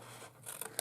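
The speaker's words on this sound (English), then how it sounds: "I'm going to just put a little tab snip there and snip" Scissors snipping through card stock during a papercraft milk-carton project, a few quick close cuts over a short moment with no talk.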